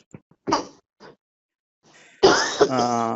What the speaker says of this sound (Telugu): మీకు ఏదో దగ్గుగా ఉంది కదా